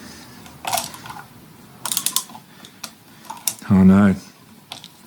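A brass screw driven by hand into an Edwardian wooden coat rack until its head shears off, heard as a few close, strained creaking bursts, followed by a short spoken exclamation.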